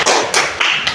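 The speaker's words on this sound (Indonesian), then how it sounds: "tepuk tangan dulu untuk teman kita bertiga" A classroom of pupils claps together for three classmates in a brief burst, dense and close, with a few stronger pulses rising out of the steady patter.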